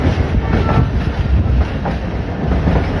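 A passenger train running between Wazirabad and Sialkot Junction at under 50 km/h gives a steady, loud rumble of wheels on track with rhythmic clickety-clack from inside, and no voices.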